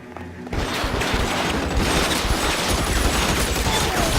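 Sustained gunfire in the L.A. Noire video game erupts after a quiet opening half-second, a dense, loud barrage of rapid shots and impacts continuing without a break to the end.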